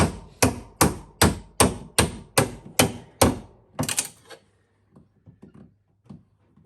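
Wide chisel splitting wood during a wooden boat restoration: about eight sharp, evenly spaced hammer strikes ring out close and loud, followed by a few fainter, irregular knocks and taps.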